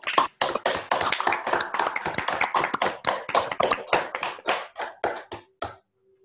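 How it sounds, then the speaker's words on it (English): A talk audience claps together on cue, producing crisp, close individual hand claps that form a fairly even, brisk patter. The clapping thins toward the end and stops abruptly. "Let's do again the 3, 2, 1 count clap."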